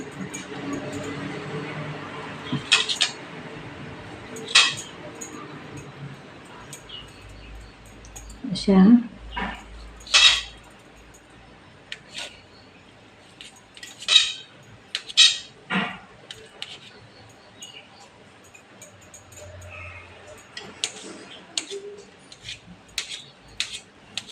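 Steamed bottle gourd vadi cut into small pieces on a plate, sharp scattered clicks and taps of a knife or utensil spread over the stretch, with someone talking in between.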